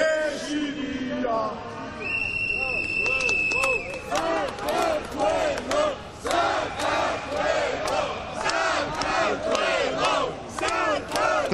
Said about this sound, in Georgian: თქვენ გესმით შეძახილები